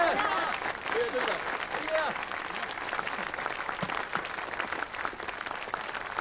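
Applause and cheering from a group in a police action film, greeting an officer named Sir Cheung after he rescues hostages; steady clapping fills the moment while voices talk and call out over it.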